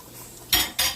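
Mushrooms stirred in a frying pan with a utensil, two quick, loud scraping strokes against the pan, separated by a short pause, with no talk.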